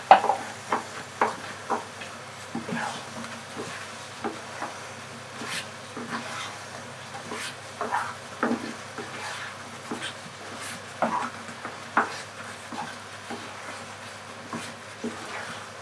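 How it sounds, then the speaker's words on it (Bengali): A spoon stirs fried spices into olive pickle in a pan, giving a steady series of soft scrapes and taps against the metal over a faint sizzle, with no speech. "মশলাটা দিয়ে খুব ভালোভাবে এটা একটু মিশিয়ে নিতে হবে।"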